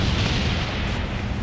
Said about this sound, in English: Napalm strike coming in.